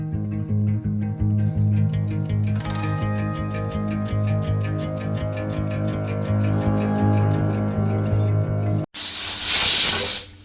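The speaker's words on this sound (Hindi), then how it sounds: "लगाएंगे दाल में तड़का।" Tadka tempering for dal, part of a home-cooked Rajasthani thali, bursts into a sharp, loud sizzle near the end, lasting about a second and a half, after a long stretch of steady music.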